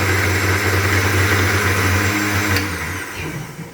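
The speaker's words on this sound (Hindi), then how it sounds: "इसको बस लास्ट में एक दफ़ा कुछ सेकंड के लिए इसको दोबारा से ब्लेंड करना" A blender whirs through strawberry puree for ice cream, a loud, steady motor drone close by that winds down near the end.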